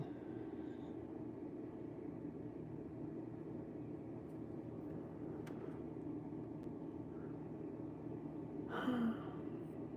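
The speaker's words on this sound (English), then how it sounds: "cars are driving out on the street" Cars driving on a street outside make a faint, steady low rumble of distant traffic throughout, with a slightly louder swell near the end.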